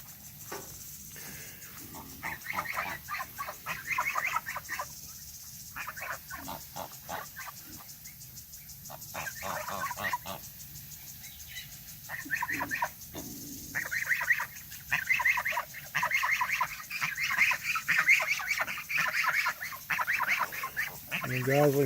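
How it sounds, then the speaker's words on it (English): Goslings honk and peep repeatedly in an outdoor farmyard pen near turkey poults and pigs, a busy chorus of bird calls running throughout, fairly close and steady. "The Goslings are coming over to check it out."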